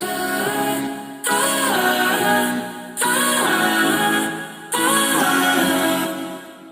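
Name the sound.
vocal sample from a Splice sample pack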